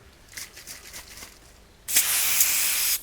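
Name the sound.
spraying Servisol foam cleanser on amplifier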